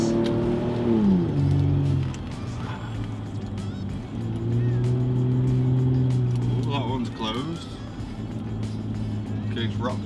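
Motorbikes pass along the narrow road through Cheddar Gorge, their engines droning and shifting in pitch as they go by, while people chat nearby.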